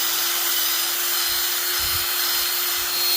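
A handheld drill bores out the clogged sunroof drain line of a Hummer H3, a steady high-pitched whine with a low rhythmic churning underneath, continuous and close.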